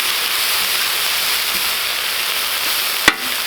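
Steak and pre-seasoned fajita vegetables sizzling on a Vevor flat top griddle, a steady close crackling hiss throughout with one sharp clack of a utensil near the end.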